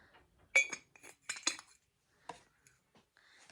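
The lid of a Miniso tumbler is handled up close, giving a quick run of light clicks and clinks that then thin out into a few sparse taps, with no talking.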